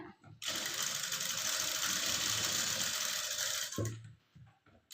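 A sewing machine runs steadily while stitching a blouse, a continuous close whir lasting several seconds before it stops, with a soft voice murmuring underneath.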